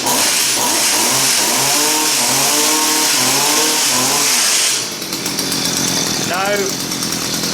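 A petrol hedge trimmer's small two-stroke engine revs up and down in repeated rising and falling whines, loud and close, then cuts out and gives one final brief rev.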